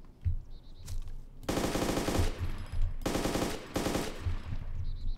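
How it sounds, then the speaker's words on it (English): Automatic gunfire from the video game ArmA 2 DayZ comes in two long, loud bursts of rapid shots, separated by quieter gaps with muffled background game noise. "No, it's me firing."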